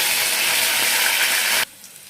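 A tempering of mustard seeds, garlic, cumin and curry leaves fries in hot oil, a loud, even sizzle close by that cuts off abruptly to near quiet.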